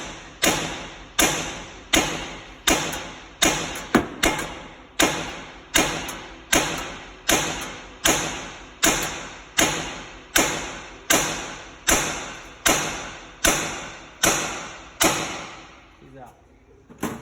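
A hammer strikes a 2008 Mazda front strut again and again to knock it loose, a steady run of loud metallic blows roughly every two thirds of a second, each ringing briefly before the next.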